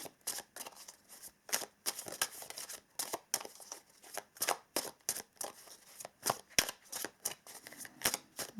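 Tarot and oracle cards being shuffled by hand, a close, rhythmic series of quick riffling slaps and flutters repeating steadily with no talking.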